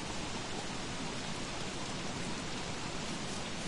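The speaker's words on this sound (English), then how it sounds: "This rain." Steady, even rain hiss falls throughout in the Don't Starve video game, a constant broadband wash of precipitation with no breaks or other sounds.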